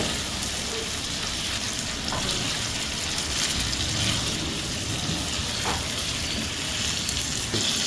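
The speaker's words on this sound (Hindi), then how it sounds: "चिकन ऐड कर देते हैं और एक बार ज़रा चिकन को भी हम इसमें चला देते हैं 1 मिनट के लिए" Chicken pieces sizzle steadily as they are stirred in a hot pan for a Chettinad chicken curry, a loud continuous frying hiss with occasional scraping of the spoon, no voices.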